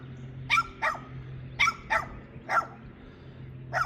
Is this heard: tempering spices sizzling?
no